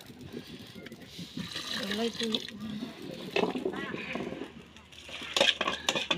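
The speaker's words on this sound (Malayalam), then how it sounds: "ശർക്കര വെള്ളം ഒഴിച്ച് ഒന്ന് നന്നായിട്ട് മിക്സായി കൊടുക്കണം" Jaggery water is poured into cooked rice and stirred in a pot for a sweet rice dish, with liquid splashing and utensil scraping under steady talking.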